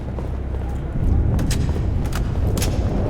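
Heavy turret gunfire from a mounted gun in Halo 3: booming shots punch through a rumbling battle din, a few sharp cracks spaced apart, with faint voices in the mix.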